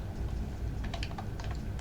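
Rapid, steady keystrokes on a computer keyboard while code for a Web3.js smart contract project is typed, close and clear over a low hum.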